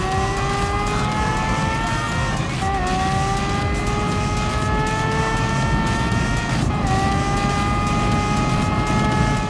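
A car engine driving in Gran Turismo Sport, played in PSVR, holds a loud, steady drone with rising and falling harmonic tones as it revs and shifts gears, with faint tire noise and no talking.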